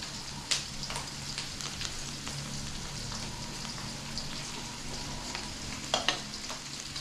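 Steady sizzling of spices frying in hot oil, a continuous crackle with a couple of sharper pops near the start and end, no voices.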